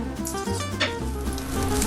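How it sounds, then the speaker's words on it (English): Spinach sautés in a pan over medium heat, giving a steady, dense, close sizzle that continues throughout. "we'll go about medium heat, and we'll saute that for 2 or 3 minutes"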